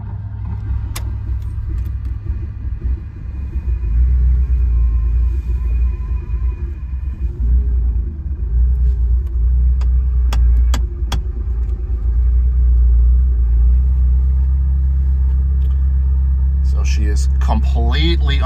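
A 1980 Ferrari 308 GTSi engine turning over on a cold start, then settling into a loud, steady low rumbling idle close by, with a faint rev toward the end.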